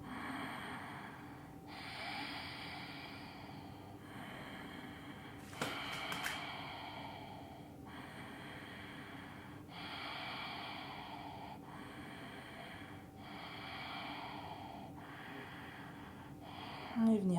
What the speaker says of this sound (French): On va venir respirer, prendre 5 respirations Ujjayi, en contrôlant l'arrivée d'air avec la gorge.